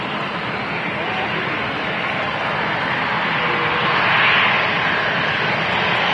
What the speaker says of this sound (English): EasyJet Holidays special just touching down